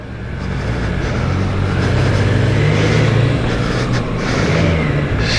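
Triumph Speed 1200 RS motorcycle riding past at a coffee meet, a steady engine drone that swells and rises in pitch midway, holding loud and continuous throughout.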